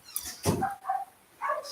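A dog in a household setting gives a few short barks and whimpering yelps in separate bursts, moderately close, with quiet gaps between them.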